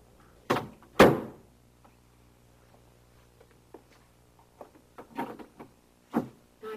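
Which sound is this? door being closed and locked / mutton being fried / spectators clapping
door being closed and locked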